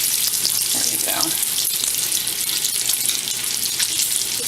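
Bacon fries in a pan with a steady, close crackling sizzle that runs without a break, alone, with no voices.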